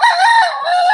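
Rooster crowing loudly and close by on a poultry farm during breeding preparation, one sustained cock-a-doodle-doo with a harmonic tone lasting the whole second, with no talk.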